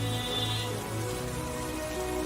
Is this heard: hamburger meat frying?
no